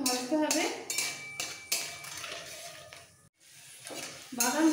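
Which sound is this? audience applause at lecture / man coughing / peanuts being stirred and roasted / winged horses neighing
peanuts being stirred and roasted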